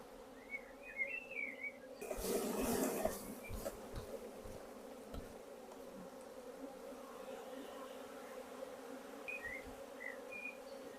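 A steady low hum of honey bees buzzing at an open hive while frames are moved, with a brief burst of rustling handling noise and faint bird chirps in the background.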